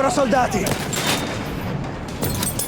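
Battlefield 1 gunfire, a burst of rapid shots and a boom at the start, then scattered shots and another burst near the end, loud against a noisy battlefield bed.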